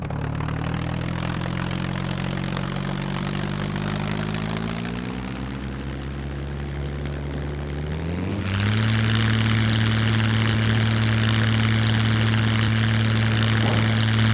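Propeller plane in the survival game Scum, a steady droning engine and airscrew hum that climbs in pitch as it revs, then settles into a loud, even roar, with a brief spoken word.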